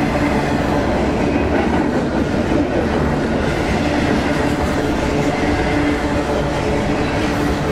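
A freight train rumbles past steadily and loudly, a continuous dense roar of rolling wagons with faint rhythmic clatter throughout.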